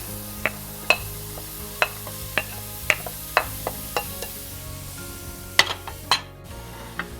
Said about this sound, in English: I'm gonna start cooking down my onions and my garlic. So now we're gonna add in the peppers.